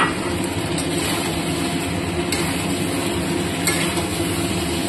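Potatoes added to a Bengali chicken curry as it fries and is stirred: a loud, even sizzle close by with a dense low rumble beneath and a couple of faint clinks from the pot, without any speech.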